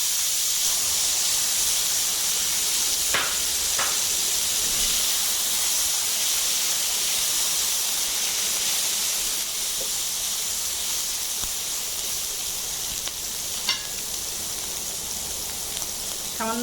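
Tomato cubes with dried chili pieces fry in a hot pan, a loud continuous hissing sizzle with occasional sharp pops and crackles, steady throughout with no talking.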